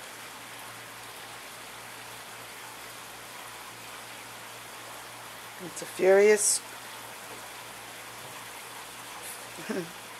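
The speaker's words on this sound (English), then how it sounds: "Now what you hear in the background is the waterfall." A waterfall roars steadily in the background as a constant, even wash of rushing water, with someone talking briefly over it partway through.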